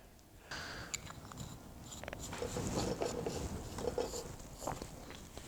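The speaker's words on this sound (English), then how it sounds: "Here's the plunger mechanism." The plunger mechanism of an old blow torch is worked by hand, giving faint irregular clicks and scraping mechanical strokes, close by and fairly quiet, repeating unevenly throughout.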